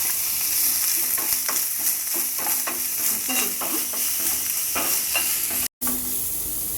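Chopped onion and green chillies sauté in a pan with a constant close sizzle and frequent short scrapes of stirring, plus one abrupt brief dropout near the end.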